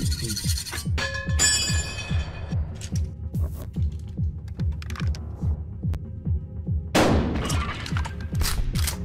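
A shotgun fires once in the video game Buckshot Roulette, a single loud, sharp blast standing out over a steady, rhythmic thumping background.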